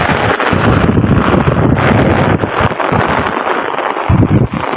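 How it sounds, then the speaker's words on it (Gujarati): Heavy monsoon rain pours down on a village street, making a loud, dense, unbroken hiss. Gusts of wind buffet the microphone close up, and no one speaks. "કેટલો બધો વરસાદ આવે અમારા ગામમાં"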